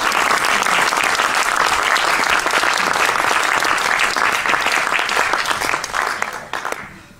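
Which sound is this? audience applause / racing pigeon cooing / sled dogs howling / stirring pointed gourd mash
audience applause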